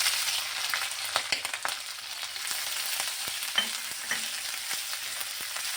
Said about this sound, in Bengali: আদাটা লঙ্কাটাও ভালোভাবে ভেজে নিচ্ছি, খুব সুন্দর করে